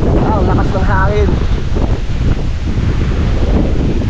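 Strong typhoon wind buffets the microphone in a loud, continuous roar, with a voice speaking briefly over it near the start.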